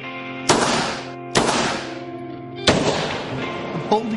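Pistol fired at a target, first unsuppressed and then with a Silencerco suppressor fitted. Four sharp shots ring out with decaying tails and uneven spacing, close and fairly loud.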